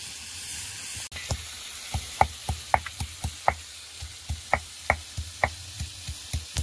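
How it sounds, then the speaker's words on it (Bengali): Peeled garlic cloves pounded on a shil nora stone grinding slab, a steady run of about twenty sharp, close thuds with short gaps between them and no voices. "ছাড়িয়ে রাখা রসুনের কোয়াগুলো শিল নোড়ায় ফেলে একটু ভালো করে থেঁতো করে নেব"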